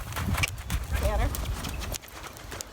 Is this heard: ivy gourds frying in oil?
no